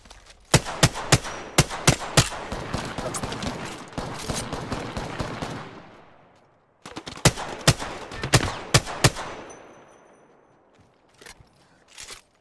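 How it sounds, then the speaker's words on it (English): Gunfire in the battle royale shooter Apex Legends comes as rapid sharp automatic bursts, loud and close, with one long volley, a brief gap, another volley and a few scattered distant shots at the end. "The enemies are shooting at me."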